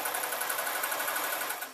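A sewing machine stitching a maxi dress runs in a fast, even clatter of needle strokes, close and continuous for under two seconds with no talking.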